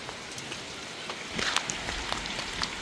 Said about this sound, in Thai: ฝนเอ้ย